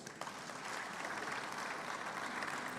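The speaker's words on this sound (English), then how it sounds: "A round of applause." Audience applause in a main conference room at a summit, a steady even wash of many hands clapping that holds at a moderate level throughout.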